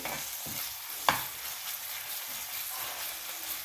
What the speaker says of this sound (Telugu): అల్లం వెల్లుల్లి పేస్ట్ వేసుకుంటున్నాం దీన్ని కూడా ఈ ఆయిల్లో బాగా వేయించాలి